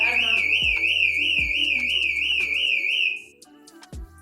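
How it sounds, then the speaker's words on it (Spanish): A loud motorcycle alarm wails with a rapidly warbling siren tone over rhythmic thumps, then cuts off abruptly. "Alarma también tiene."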